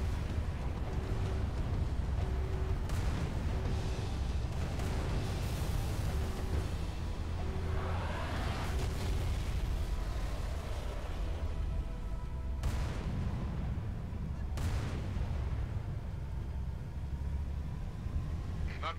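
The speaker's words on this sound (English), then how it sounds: "I saw that explosion from orbit." Explosions and artillery fire in the video game Halo 3, a dense, continuous roar of booms and blasts filling the whole stretch, with sharper bursts standing out near the end.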